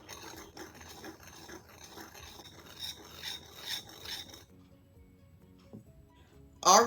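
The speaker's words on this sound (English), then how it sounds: "Going to give these a quick whisk until they're well combined" A whisk rasps quickly around a bowl, mixing flour, baking powder and salt for a quick bread, a rhythmic scraping and rubbing for about four seconds before it stops, followed by quiet and a short clatter at the end.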